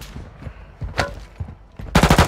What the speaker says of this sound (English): Who else shooting at me